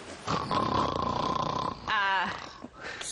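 A person performs loud, drawn-out snoring, with a long rasping inhale followed by a shorter rumbling snort, fairly close and with no talking over it.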